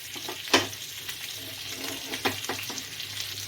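A chicken cheese paratha cooks in a covered pan over low flame, a soft steady sizzle broken by a sharp clack near the start and a few lighter knocks of the lid or spatula.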